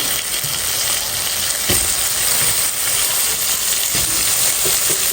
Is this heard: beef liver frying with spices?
yes